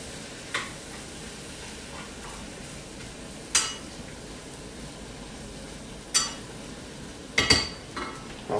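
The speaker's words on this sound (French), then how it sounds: "Une fois qu'on a fait ça, on va les remuer." Small vegetables being stirred in a pan over a faint steady sizzle, with a few sharp utensil clinks and scrapes spaced apart, close by.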